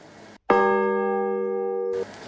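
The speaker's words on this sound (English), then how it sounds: "ring that notification bell" A single clear bell ding rings out after a brief silence, sustaining evenly for about a second and a half before cutting off.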